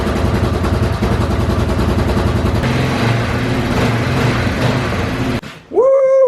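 A small ATV engine idles steadily and smoothly after a repair, with the choke off, loud and close for most of the stretch. It cuts out near the end, followed by a brief rising whoop.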